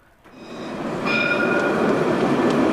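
A tram rolls along a commercial avenue, a steady, loud rumble building up close, with thin high wheel squeals ringing over the rail noise.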